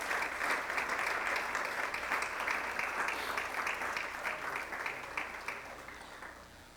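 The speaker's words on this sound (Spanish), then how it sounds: "Que nos le damos un aplauso al Señor por eso" A church congregation applauding during a sermon, a dense, steady round of clapping that gradually fades toward the end, heard alone without talk.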